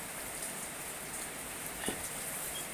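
Steady rain falling during an outdoor meal, a soft, even patter spread across the whole stretch with one brief sharper drop, moderately faint and with no voices.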